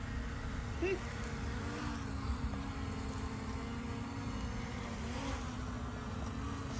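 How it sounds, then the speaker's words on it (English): A drone hovering close by while blowing leaves off a surface gives a steady, low buzzing drone with a constant whine above it, faint and continuous throughout with no pauses. "So yeah, drone leaf removal 101."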